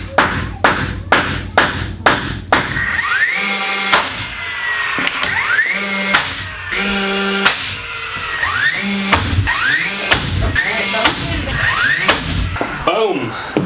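A big hammer pounds wall framing inside a metal shop being built into a home, a series of loud, sharp blows in quick runs with pauses, some ringing metallic squeals between strikes.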